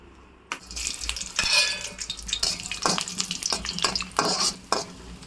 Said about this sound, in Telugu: కిస్మిస్ బాదం వేయించుకొని పక్కన పెట్టుకుందాం